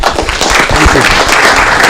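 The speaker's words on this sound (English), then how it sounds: "Another round of applause for Rich Jacobs." A short burst of applause at a city council meeting for an award recipient, steady clapping lasting a couple of seconds with faint voices mixed underneath.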